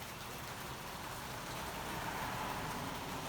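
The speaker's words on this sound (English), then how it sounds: "Oh, here comes the rain again." Rain falling outdoors, a dense, steady patter and hiss of drops that stays constant from start to finish with no voices.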